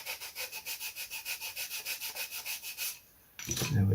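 Rhythmic back-and-forth strokes of sandpaper on the wooden structure of an Airco DH2 model, about seven per second, close and even, then a brief pause and a louder rustle at the end.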